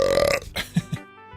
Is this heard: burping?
yes